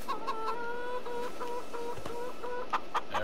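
Chickens clucking in the farming game Farming Simulator 22, a steady run of short, pitched clucks from several birds close by with no talk.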